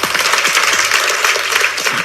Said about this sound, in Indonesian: Anda boleh tepuk tangan.